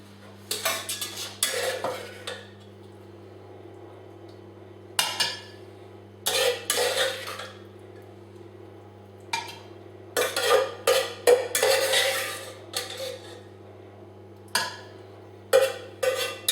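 A utensil scraping and knocking in a pan as pear and vanilla crumble filling is gently stirred, in several bursts of clinking with quiet gaps between them and no talking.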